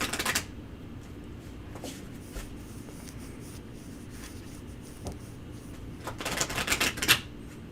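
Tarot cards being shuffled close by, with soft papery riffles and light taps that come in short bursts at the start and cluster toward the end over a quiet room background.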